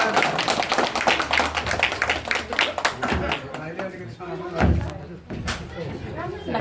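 Audience clapping at a Nepali felicitation ceremony honouring a donor, a rapid dense patter of hand claps that thins out and fades in bursts, with a voice talking over it.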